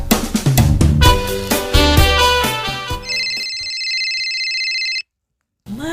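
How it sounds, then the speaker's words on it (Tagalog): A cellphone rings on a table during a comedy drama scene: a tonal melodic ringtone passage gives way to a sustained, steady electronic ring lasting about two seconds, then cuts to silence. "itay pa'y lang agun unay ti cellphone mo, di tarabaw ti lamisaan"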